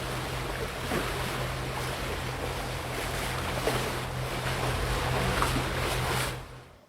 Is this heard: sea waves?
yes